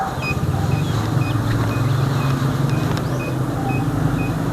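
Evenly spaced short parking sensor beeps repeat in a quickening rhythm as an object nears the rear, over a steady rumble of a car interior, faint and high-pitched against the engine noise.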